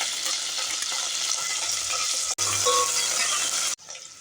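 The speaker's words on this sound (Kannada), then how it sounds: "ಸಾಸಿವೆ ಜೀರಿಗೆ ಎಲ್ಲ ಚಟಪಟ ಅಂತ ಇದೆ" Mustard seeds and cumin spluttering in hot oil, then chopped onion frying in the pan for a vegetable pulao, a steady close crackling sizzle broken by two brief pauses, with no talking.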